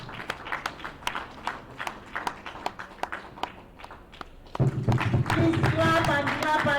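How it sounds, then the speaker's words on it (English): Audience applause for award recipients at a ceremony, scattered distinct claps at first, then a louder, denser burst of clapping with crowd noise and a voice over it in the final seconds. "Please clap and clap and clap"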